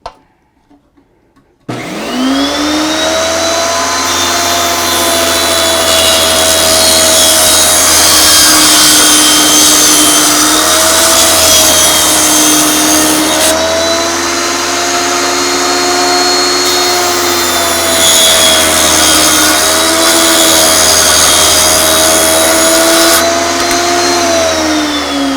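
A power saw roars steadily as a thin wood strip is ripped using a flip method, the loud motor drone rising and dipping slightly under load across the long cut, with no speech.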